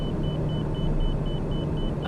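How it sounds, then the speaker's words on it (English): In a Microsoft Flight Simulator cockpit, a thin electronic beep repeats at a fast, regular pace over a constant low engine rumble, with no talking. "I love when there's a random beeping noise."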